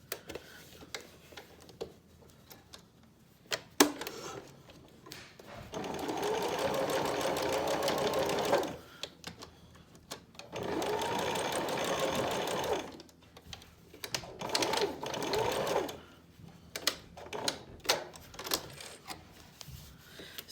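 Sewing machine stitching a fabric face mask with a filter pocket, running in two steady bursts of several seconds each, separated and followed by clicks, taps and handling noises of fabric adjustment.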